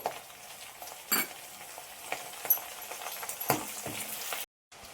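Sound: curry leaves and green chillies frying in oil

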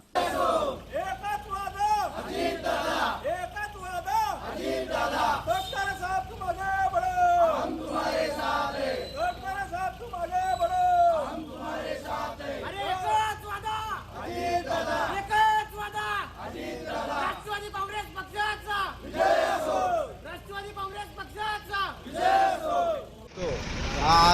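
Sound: crowd cheering at a political party celebration

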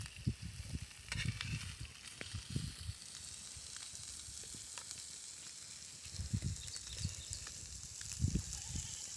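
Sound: chilapi (tilapia) fish frying in oil, second side

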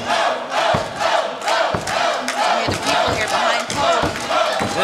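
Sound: sold-out wrestling crowd cheering

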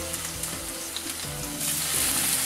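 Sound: cod fish frying in olive oil in smoking pan

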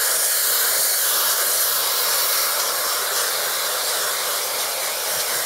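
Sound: hair blow dryer on high heat and fan

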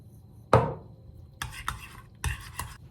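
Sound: stirring garlic into yogurt

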